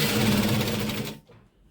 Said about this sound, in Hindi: और एक पैर की सिलाई लगाएंगे